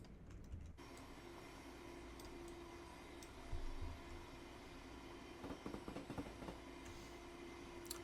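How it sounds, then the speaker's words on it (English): Class 700 Desiro City electric train in Train Simulator, rolling along the East Coast Main Line with a steady quiet hum, faint rhythmic rail-joint clicks and clunks passing beneath. "Also, the joint sounds on this thing, they sound cool."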